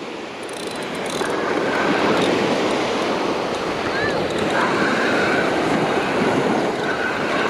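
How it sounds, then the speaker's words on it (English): Steady roar of ocean surf breaking on a beach during surf fishing, continuous broadband wash, loud and close. "Set of waves here."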